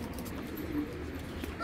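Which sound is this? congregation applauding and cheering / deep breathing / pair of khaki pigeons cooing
pair of khaki pigeons cooing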